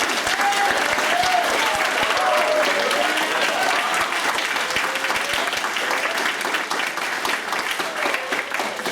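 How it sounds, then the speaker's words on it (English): At a graduation party, a crowd applauds graduates with loud, dense, sustained clapping that keeps up a steady level until it fades slightly near the end. Faint voices can be heard beneath it. "Round of applause for all of you."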